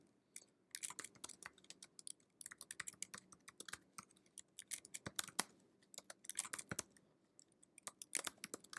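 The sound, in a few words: typing code on a computer keyboard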